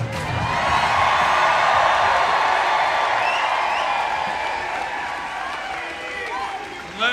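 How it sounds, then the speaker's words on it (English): A large, loud rally crowd in a Detroit high school venue cheers, whoops and applauds steadily throughout, the roar staying dense and sustained before easing slightly near the end. "You are a loud crowd."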